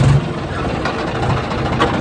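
A tractor engine runs steadily up close, a loud, even mechanical rumble that never lets up.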